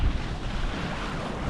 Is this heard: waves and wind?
yes